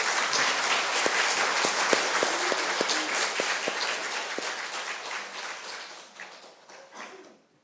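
Audience applause welcoming a speaker at an academic lecture on Franciscan spirituality: a full, close wash of clapping with a few sharp individual claps standing out, gradually thinning and tapering off toward the end.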